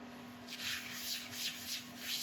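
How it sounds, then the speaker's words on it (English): A cloth working abrasive paste over a turned wooden piece spinning on a lathe gives a soft, steady rubbing hiss that swells and fades in repeated strokes, close and moderately quiet over a constant low motor hum. "we're going to go on with an abrasive paste"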